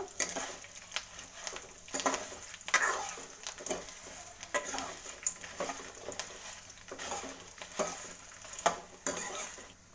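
Masala spices, Byadagi chillies and coriander seeds, are stirred and dry-fried in a pan, with a soft sizzle beneath repeated scraping and clinking strokes of the spoon against the metal, close and steady.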